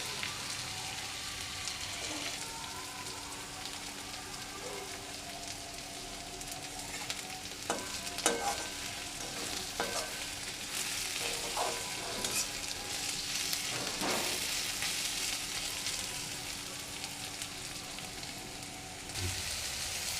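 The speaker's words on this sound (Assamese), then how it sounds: "পিঁয়াজটো ফ্ৰাই হৈ গৈছে" Onions with masala fry in a pan for a chicken curry, a continuous soft sizzle with occasional scraping stirs and clicks, fairly faint and steady.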